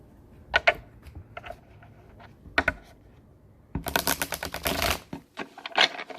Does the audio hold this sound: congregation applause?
no